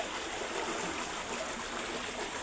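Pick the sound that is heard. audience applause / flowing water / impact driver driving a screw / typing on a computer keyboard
flowing water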